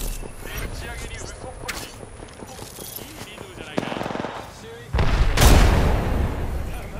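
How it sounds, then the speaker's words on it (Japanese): Rapid automatic gunfire bursts from an Apex Legends match rattle in quick sequences, with a louder, denser barrage toward the end, while players talk over the shooting. "でもあいつら向こうも撃ってるから"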